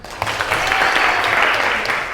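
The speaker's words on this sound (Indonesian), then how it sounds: "Tepuk tangan lagi." Classroom applause from a group of students, a steady broadband clatter of many hands clapping that holds evenly for a couple of seconds, fairly close and loud, with no talking over it.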